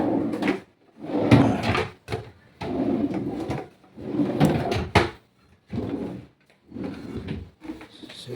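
A drawer on an aluminum study table cabinet with wood finish slides open and shut again and again, several rolling scrapes ending in thuds, close and fairly loud, with short pauses between strokes.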